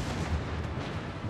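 Naval artillery fire in the video game World of Warships: Legends, a short burst of dull, rumbling gunfire booms heard at moderate level with no talking.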